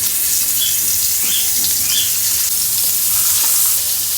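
Fish and onions frying side by side in a little oil in a home kitchen pan, a steady close bright sizzle with crackles running throughout, no talking.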